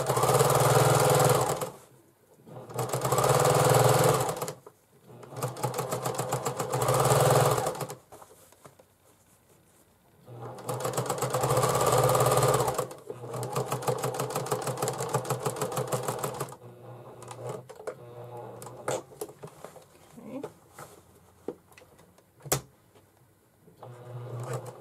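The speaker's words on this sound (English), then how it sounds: "Turn my corners with the needle in the down position so the fabric doesn't slide around." A sewing machine stitches fabric for a bag in several loud, steady runs of rapid mechanical whirring, separated by short pauses, then gives way to quieter scattered clicks and handling noises.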